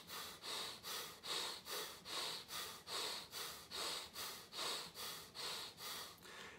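Forceful belly breathing in a breathwork exercise: a steady run of about fourteen strong, rhythmic inhales and exhales, close and alone.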